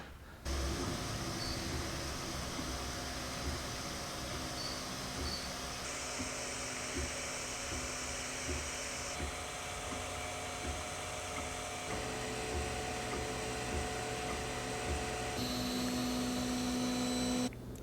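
An Ortur Laser Master 2 Pro laser engraver runs steadily, giving off a continuous whirring, buzzing drone with its fans and motion motors, and the tone shifts slightly every few seconds as it works. No one speaks.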